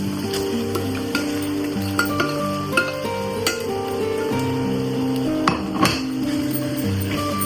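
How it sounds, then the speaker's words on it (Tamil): Prawns going into a hot pan for prawn biryani, with a steady sizzle and a few metallic clinks and scrapes of utensils, close and continuous. "நான் இப்ப இதுக்குள்ள நான் எடுத்து வச்ச இறாலை போட போறேன்"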